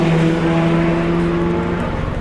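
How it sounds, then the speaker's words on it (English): A G-Drive LMP2 prototype race car passes close by at speed during an endurance race, a loud, steady engine drone with a clear sustained pitch that fades slightly as it goes by. "There goes the G-Drive Sam Bird car in LMP2."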